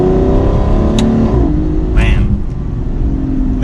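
An Aston Martin Rapide engine revs through first and second gear, a loud steady drone rising and dropping with a brief shift, heard from inside the car with someone talking over it.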